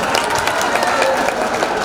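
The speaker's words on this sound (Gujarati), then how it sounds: "સૌ યુવાન ભાઈઓને માટે એકવાર જોરદાર તાળી દઈએ" An audience at a Divyang Raas Garba festival applauds for young volunteers, a loud, close burst of many hands clapping at a steady intensity, with a faint crowd murmur and no one talking over it.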